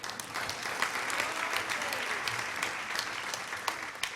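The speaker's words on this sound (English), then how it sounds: "Let's give them a round of applause once more." Sustained applause from many hands fills a provincial legislature chamber, steady and dense throughout with no voices rising above it.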